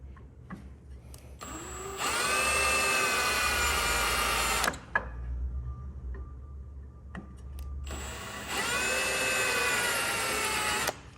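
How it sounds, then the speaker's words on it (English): A power drill drills out rivets on a Subaru WRX, with two sustained loud whining bursts of a couple of seconds each separated by a quieter pause with brief taps, close to the microphone and no talking. "the best option seems to be to drill these out and then use a flathead screwdriver to try and pop it loose"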